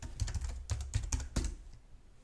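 A password typed on a computer keyboard, a quick run of close, distinct key clicks in short bursts that fade off near the end.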